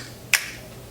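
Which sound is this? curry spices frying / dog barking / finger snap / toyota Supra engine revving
finger snap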